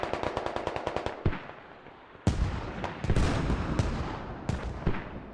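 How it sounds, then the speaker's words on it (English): Mortar barrage in an infantry battle video game: rapid rattling bursts give way to heavy booming impacts that land in quick, irregular succession, loud and close with rumbling tails. "And the mortar barrage just mopping up the infantry."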